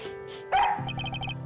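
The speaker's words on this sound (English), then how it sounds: "Ooh, woof, woof, woof, woof." Dog barks in a game scene, a few short yips following a louder bark over steady background music tones.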